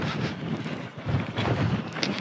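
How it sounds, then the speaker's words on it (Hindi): Strong wind blows steadily outdoors in Djibouti, a continuous loud broadband rush buffeting the microphone with gusty swells throughout. "हालांकि हवा चल रही है काफी तेज"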